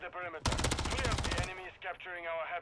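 Rapid automatic gunfire bursts from an SMG in Call of Duty: Modern Warfare III, a dense loud volley lasting about a second, followed by a game announcer's voice speaking.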